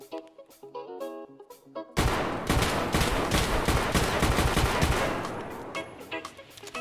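Rapid, loud bursts of .338 Lapua rifle fire in Escape From Tarkov, a dense volley of close shots after two seconds of quieter musical notes, trailing off near the end.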